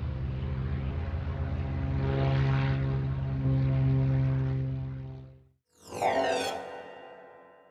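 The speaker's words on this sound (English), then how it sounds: "propeller plane." A propeller airplane drones steadily overhead, its engine hum swelling and holding, then fading out briefly before a rising whine sweeps back in; no voices.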